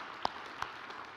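A small group led by the chamber team claps at a township address, quiet scattered applause with two sharper claps standing out close by.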